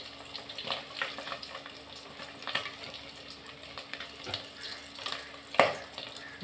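Fish sizzling in a pan of oil while frying for a Chettinad-style meal, a steady soft crackle with faint splashes and one sharper clink near the end, no voices.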